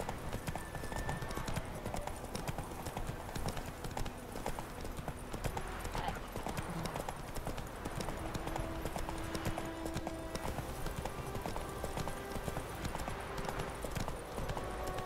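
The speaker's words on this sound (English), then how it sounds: "Whoa there, Roach." Horse hooves clip-clop steadily and continuously in The Witcher 3, with faint voices and ambient game sound underneath throughout.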